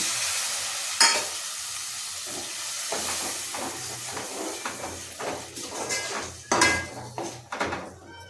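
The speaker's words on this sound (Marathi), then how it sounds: "आता इथे वाटणाचं जे वाटलेलं पाणी आहे" Ground masala paste water poured into a hot oily pan for a jackfruit curry, giving a loud hissing sizzle and steam, with a metal spoon scraping and clinking against the pan throughout.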